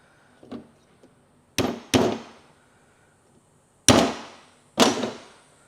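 Tabs on a metal CV boot clamp being bent over with a tool, four sharp loud metallic strikes in two pairs with quick decays and a couple of faint taps between, close up and with no talking.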